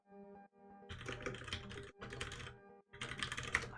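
Fast typing on a computer keyboard during a Python coding session comes as dense bursts of clicks broken by short pauses, close and fairly quiet, with no talking.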